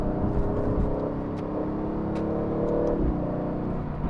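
An Aston Martin sports car accelerating through New York City traffic, a steady, full engine drone that holds at a strong level from inside or near the car, with a faint rise partway through.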